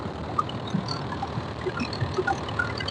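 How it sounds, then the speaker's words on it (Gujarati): Steady rumble of a boat moving over open sea near Pipavav port, Gujarat, with broadband wash and wind noise throughout and no talking. "સામે પણ બીજી એક બોટ આવે છે દરિયામાં"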